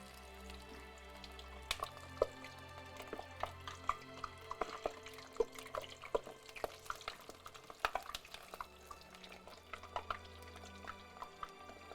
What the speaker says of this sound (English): all that bubbling and crackling, that's the excess moisture from the chips